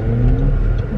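A steady engine hum and road rumble come from inside an Audi A1 on a test drive, a continuous mid-pitched drone with no talking over it.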